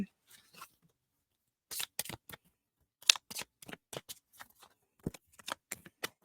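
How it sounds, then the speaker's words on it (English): A deck of Lenormand cards is shuffled by hand in bursts of crisp riffling and flicking, close and fairly quiet, with short pauses between. "Let me shuffle these suckers up."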